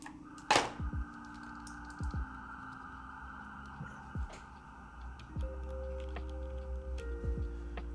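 Keycaps are handled on a hot-swap mechanical keyboard: scattered light plastic clicks and taps at irregular intervals over a faint steady hum, close and quiet.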